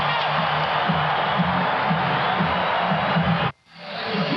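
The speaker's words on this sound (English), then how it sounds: "the sellout crowd gives the home team a standing ovation" A sellout arena crowd at The Summit in Houston gives the home Rockets a standing ovation against the Bulls, a dense, loud roar of cheering that cuts out abruptly near the end, then swells back.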